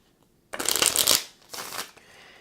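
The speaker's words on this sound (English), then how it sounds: "We're going to go ahead and shuffle these cards up" A deck of Spoils of War game cards riffle-shuffled close up: a loud fluttering burst of about half a second, then a shorter, softer second riffle as the cards are bridged back together, with no talking.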